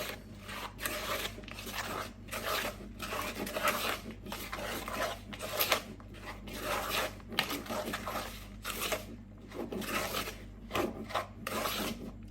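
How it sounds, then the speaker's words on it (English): Chocolate muffin batter with chocolate chips stirred in a bowl, a soft rhythmic scraping and rubbing that repeats in steady strokes, close and fairly quiet. "then you can mix it all together"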